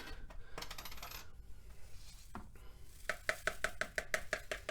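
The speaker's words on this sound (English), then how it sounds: "Let me start putting it all in one pan." Gold paydirt from a 3 lb bag is poured into a pan with a gritty rush, then a run of about a dozen quick, sharp metallic clinks and rattles, close and alone.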